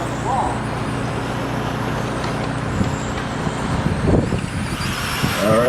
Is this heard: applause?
no